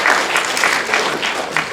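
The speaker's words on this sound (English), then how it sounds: "You want to applaud for Mr. Seifert?" Middle school eighth graders applaud a teacher at the start of the school year, a short burst of steady, dense clapping from a room full of students.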